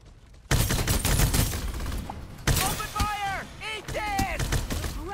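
Bursts of rapid gunfire from the video game Farlight 84, loud and dense, with synthetic whistling effects and a voice talking over the shooting.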